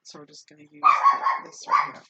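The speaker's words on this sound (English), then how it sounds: "Sorry for the barking dogs." Dogs barking loudly in a few sharp bursts nearby, overlapping with someone speaking close by.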